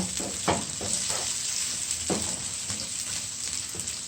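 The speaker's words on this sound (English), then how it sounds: "And you want this to saute" Onion sautés in a hot skillet for brown stewed tilapia, a steady close sizzle broken by a few louder crackles and stirring scrapes, with no talking.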